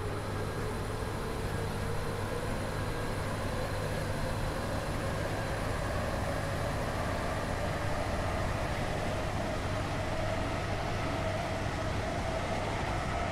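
Airlink train ride in Roblox Stepford County Railway: a continuous steady rumble and hum of the moving train, with droning tones and a faint hiss sustained evenly for the whole ride, no voices.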